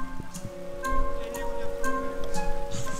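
Rain falls around a car, a dense close patter of drops hitting surfaces with a low steady hum underneath and no voices.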